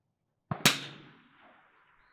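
A single rifle shot from a Vudoo Three 60 firing Lapua Long Range ammunition: a soft click followed by a sharp, loud crack that rings out and fades over about a second and a half, with nothing else heard.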